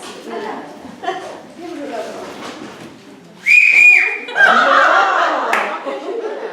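People talk and chuckle during a group lesson, then a person whistles a steady, clear tone, followed by a louder, more varied whistled phrase as a solo.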